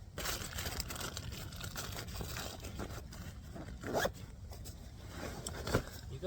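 A zip pocket on the front of a Karrimor Ultralight pack is worked open and shut in repeated close, rasping pulls, with fabric rustling and scraping between the zips.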